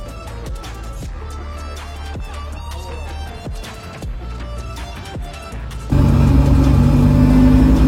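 Ferrari engine during a test drive, heard as a car interior drone with intermittent thumps and knocks, then a sudden jump to a loud, louder steady engine roar near the end.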